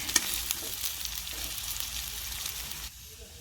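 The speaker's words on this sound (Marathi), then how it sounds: "कढईमध्ये मी भात घातलेला आहे. आता आपण छान असं एकजीव करून घेऊया भात." Leftover rice sizzles in a hot wok of spiced oil tempering with scraping stirs, a steady crackling hiss broken by a few clatters, no voices.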